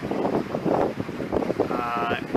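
Wind rushes across the microphone while cruising into a light headwind on a solar electric catamaran, a steady close buffeting roar with a brief rising whine near the end.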